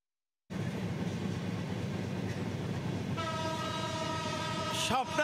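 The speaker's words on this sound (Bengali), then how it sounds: "দীর্ঘ যাত্রা শেষে ট্রেনটি এখন রাজধানীর কমলাপুর রেল স্টেশনে পৌঁছেছে।" The Sundarban Express passenger train from Khulna, arriving at Kamalapur station in Dhaka, rumbles loudly and steadily, then sounds a long horn blast partway through.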